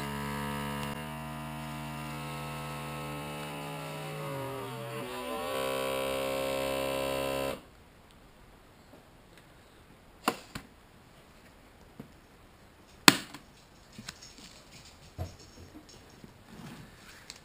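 A vacuum sealer pumps the air out of a bag of oxalic acid strips, a steady loud motor drone with a falling whine that stops abruptly, followed by quiet handling with a few sharp clicks and rustles.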